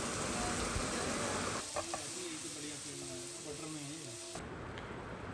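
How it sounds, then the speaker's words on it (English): Butter, chopped ginger, garlic and green chili sautéing in a pan give a loud, steady sizzle that softens into quieter frying under a speaking voice before cutting off abruptly. "In the same pan, we'll put some butter, chopped ginger, garlic, green chili. Saute it until the garlic and chili and ginger turns golden brown."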